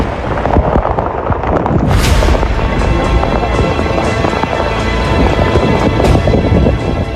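Heavy monsoon rain in a storm over flooded streets in Gujarat pours as a loud, dense, continuous wash, with a sharp thunder-like crack about two seconds in and another burst later.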